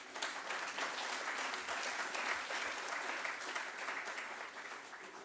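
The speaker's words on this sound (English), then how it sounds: "A round of applause." A crowd applauds at a cultural talk on Caribbean dance and Black music culture, steady sustained clapping from a distance, fairly faint, fading slightly toward the end.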